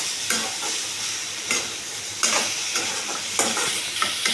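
Partly cooked chicken and masala frying in a pan for chicken gravy, a steady close sizzle punctuated by regular spatula scrapes every second or so, no talking.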